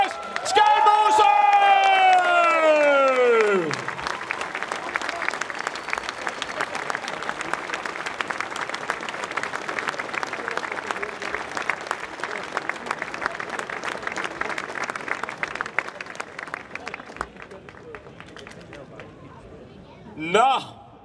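A crowd at a Danish national championship cycling race ceremony applauds and cheers a rider, steady dense clapping and whoops filling the space for about seventeen seconds before fading, with a voice over a loudspeaker talking over the start.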